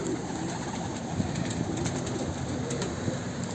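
Pigeons cooing inside a coal shed, soft repeated coos over a steady low hum, fairly close and continuous throughout.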